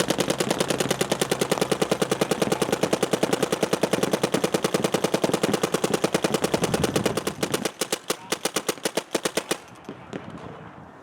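Planet Eclipse Ego LV 1.6 paintball marker firing dry from the hopper in long, very rapid strings of sharp pops, loud and close, slowing into spaced single shots before stopping.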